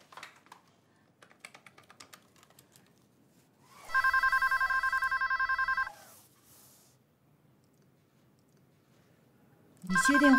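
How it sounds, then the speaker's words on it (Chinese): A home telephone rings loudly in two bursts, a steady electronic trill lasting about two seconds, then silence and a second ring starting at the end, preceded by light tapping and clicking sounds. "接电话呀！"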